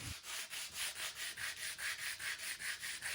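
Varnish being sanded off wooden parts of a vintage Macomber floor loom with 80 grit sandpaper by hand: close, steady back-and-forth rasping strokes in a quick even rhythm, about three per second, with no voices.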